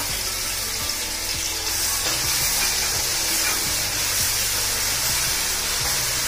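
Raw paste from one medium onion frying in a pan, giving a steady, close sizzling hiss that runs unbroken for the whole stretch, with no voices.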